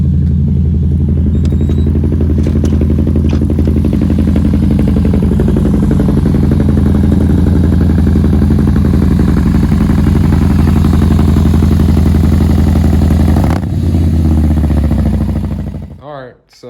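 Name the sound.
Harley-Davidson Softail Slim motorcycle engine running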